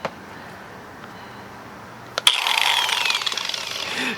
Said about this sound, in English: So I'm gonna go ahead and trim this fender. I already have the lines lined up, and tool of choice for this one is an angle grinder.